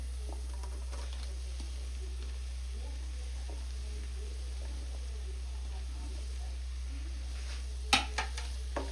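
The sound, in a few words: chopped onions frying and being stirred in pan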